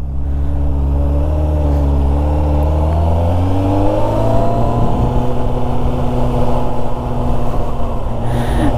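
A scooter pulling away and riding off near Yoshkar-Ola, its engine note rising steadily with a loud, continuous drone and climbing whine, close to the listener with no talking.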